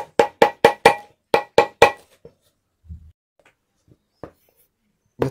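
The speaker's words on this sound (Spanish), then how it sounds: "Después se remata con el martillo." A hammer strikes a hand-sewn shoe sole in a quick series of about eight sharp, close knocks in two bursts, followed by a few softer, scattered taps.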